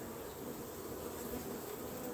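Dense, continuous buzzing of hybrid honey bees at an open hive with supers, a close, steady swarm hum with no pauses and no speech.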